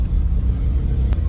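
A mini truck's engine idling just after starting, a close, steady low rumble with slight unevenness and no talk, holding constant throughout.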